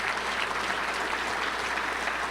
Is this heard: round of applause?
yes